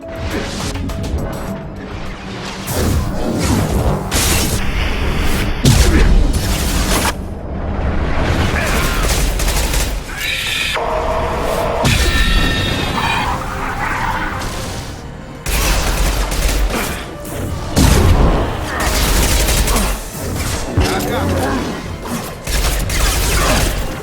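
Third-person shooter combat from Mass Effect 2 erupts in loud bursts of gunfire, impacts and crashes, with rapid volleys and short pauses, and voices appear between the shots.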